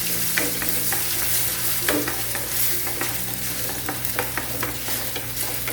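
Eggs scrambled in a hot frying pan with a pinch of salt and pepper, a steady close sizzle under repeated scraping and stirring strokes of a spatula against the pan.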